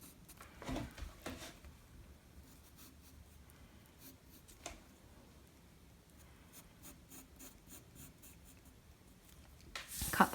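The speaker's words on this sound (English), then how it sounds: "Now I'm going to draw" A pencil scratches quietly across paper while drawing a paper-craft pop-up card, with soft continuous strokes and a few louder rustles and rubs, ending in a brief burst of paper handling.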